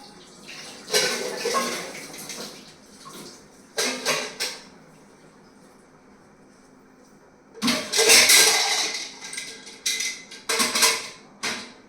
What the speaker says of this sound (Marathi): आता हे भांडे घासून घेते आणि मिक्सर सुद्धा पुसून घेते व्यवस्थित